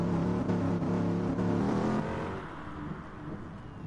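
GT3 race car engines at Interlagos in the Gran Turismo racing game, a loud harmonic engine whine that holds, then fades as the car passes and recedes, with no talk.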